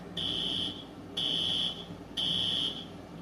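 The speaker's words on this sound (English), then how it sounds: "I think the fire alarm is tripping." A school fire alarm sounds in three shrill electronic bursts, each about half a second long, repeating at a steady rhythm. The alarm is loud and clear over a low background rumble, with no talking.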